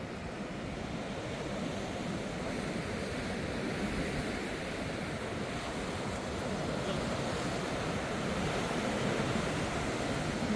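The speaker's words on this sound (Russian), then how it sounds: "Прям волнит хорошо, но здесь и ветерок больше, чем за мысом." Sea waves break on a rocky shore near the old lighthouse area of the 4th microdistrict in Shevchenko, with gusting wind buffeting the microphone; a steady, loud, broadband wash of surf and wind continues without pause and no one speaks.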